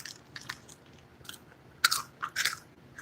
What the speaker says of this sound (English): You hear that, right? That crunch.